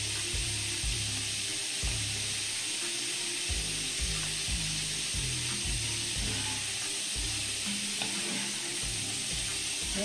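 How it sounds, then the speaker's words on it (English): Shrimp sizzling as they cook in a pan, a loud, continuous close-up fry with steady crackle and bursts of low-pitched bubbling throughout, no voices. "And shrimp tend to cook very quickly."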